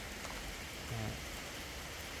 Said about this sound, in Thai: ตอนนี้ฝนตกนะครับ